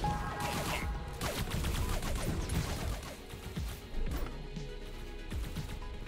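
A new gun fired in a video game, rapid bursts of sharp shots in quick succession, moderately loud over a busy game background, with no talk.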